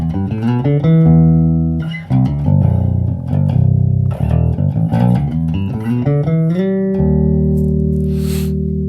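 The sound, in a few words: Carvin SB5000 bass guitar playing bass lines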